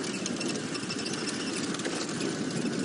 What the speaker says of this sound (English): I'm going to cut the engine again.